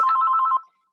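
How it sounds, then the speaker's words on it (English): A telephone rings in a single short trilling burst, loud and alone, then stops abruptly. "I apologize for the phone ringing"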